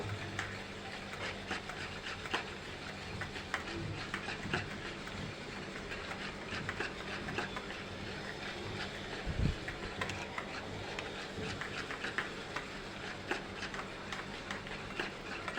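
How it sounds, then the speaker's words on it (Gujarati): About a spoonful of oil being mixed into nylon khaman batter: a steady, close, rhythmic swishing and ticking of the stir that runs throughout, with no voices. "તેલ એડ કરીને પણ આપણે બરાબર મિક્સ કરી લઈશું."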